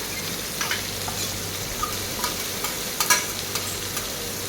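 Tomato and onion stir-fried in hot oil in a pan, a continuous close sizzle with scattered spatula scrapes and taps pressing the mix, no voices.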